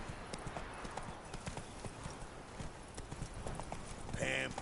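Roach the horse's hooves clip-clop in a steady trotting rhythm in The Witcher 3, close and moderately loud, with a brief whinny near the end.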